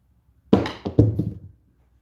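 Dice tossed across a craps table land with a sharp thunk, then rattle and tumble in a quick cluster of close knocks before settling, with no talk over them.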